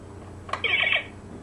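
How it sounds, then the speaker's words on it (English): A brief electronic 'time circuits on' sound effect from a 1/15-scale Diamond Select Back to the Future DeLorean toy car: a sharp click followed by a bright, buzzing beep sequence lasting about half a second, fairly quiet and alone. "That sound should be time circuits on,"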